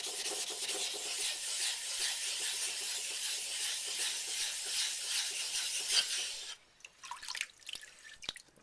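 A Naniwa stone rubbed back and forth across a hard waterstone to level it, giving a steady wet, gritty scraping for about six seconds before it stops, followed by faint drips and small clicks.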